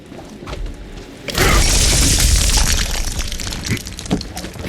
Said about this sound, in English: Those Devil Riders are celebrating the Sheriff's death with damn fireworks